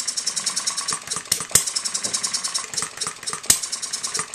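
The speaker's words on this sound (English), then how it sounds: "To me, it's just a very nice running engine." A small hit-and-miss model engine runs steadily, with a fast, even rhythm of light mechanical chuffs and rattles and two sharper firing bangs standing out, heard alone at moderate volume.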